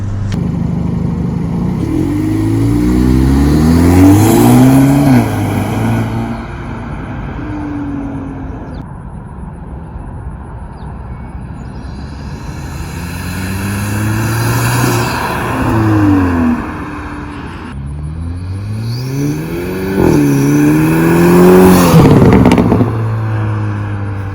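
A turbocharged Hyundai Elantra N engine with an aftermarket Forge inlet and intake revs hard three times, each climb rising in pitch with a turbo whoosh before dropping back to a rough idle.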